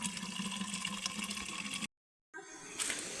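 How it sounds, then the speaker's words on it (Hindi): Cold water from a mountain spring on a forest trail pours into a container with a steady close gush; it cuts out briefly, then resumes with a changing filling tone. "तो अब वहाँ के लिए भी पानी भर लेते हैं धारे से।"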